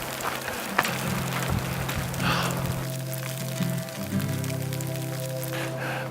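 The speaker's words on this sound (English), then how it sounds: "Here comes the rain again." Rain falls on a snowy mountain pass at about 10,500 feet during a hike, a steady close patter over the jacket and ground with a few sharp taps and crackles, no voices.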